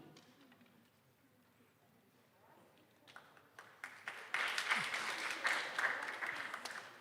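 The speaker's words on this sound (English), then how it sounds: "Thank you, but please hold your applause." Applause from the audience at a high school freshman academic awards ceremony starts a few seconds in and swells, scattered claps over quiet room noise before building into a fuller burst.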